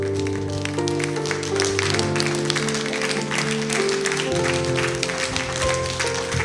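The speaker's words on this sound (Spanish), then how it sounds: "comiencen a golpear el uno contra otro para dar este aplauso de palmas" Church congregation claps their hands together in praise over steady sung music and sustained instrumental tones, with the clapping running throughout at a moderate level.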